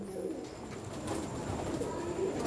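A pigeon coos softly in a low, throaty rumble, repeating faintly behind background noise.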